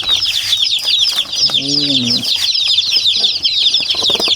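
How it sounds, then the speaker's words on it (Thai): Black and red chickens cluck over a constant chorus of high, shrill chick peeping. One short harmonic cluck stands out near the middle, and a voice speaks briefly. "ไก่ดำแดง"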